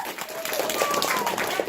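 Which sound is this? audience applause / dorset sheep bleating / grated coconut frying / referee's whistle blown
audience applause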